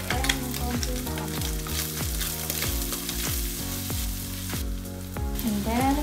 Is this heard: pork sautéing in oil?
yes